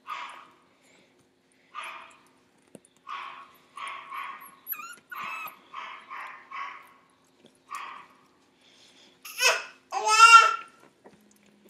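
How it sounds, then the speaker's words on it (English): Puppies in a whelping box make a run of small whimpers and yips in short bursts, then louder squealing cries near the end, close by in a quiet room. "So, here's some puppy action."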